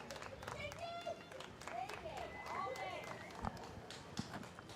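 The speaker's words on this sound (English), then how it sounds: "You can hear the crowd here on the Belmont Pier cheering Megan Thompson" A crowd cheering on Belmont Pier at a sailing regatta match, a faint distant mix of shouts and scattered clapping under close commentary voices.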